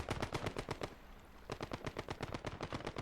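Machine gun fire in the World War II game Gates of Hell: Ostfront comes in two rapid, close, punchy bursts with a short gap between them and no talking.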